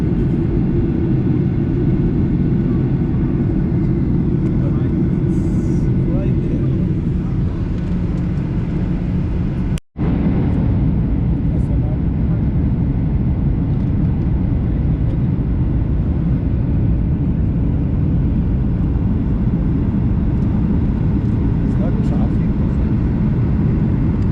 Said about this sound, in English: we are landing in Nairobi